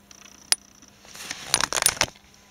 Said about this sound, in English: And I hope we can hear now the relay click when it switches off.